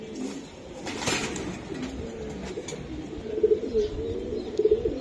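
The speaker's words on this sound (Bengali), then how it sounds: "এটা একটা রেস করা কবুতর" A racing pigeon coos close by in soft, repeated low throaty bursts, growing stronger toward the end, with faint chirps around it.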